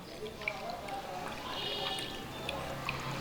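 Weight-loss juice being poured and strained, a steady liquid trickle and dribble running through the whole stretch at moderate level, with soft drips on top and no one talking.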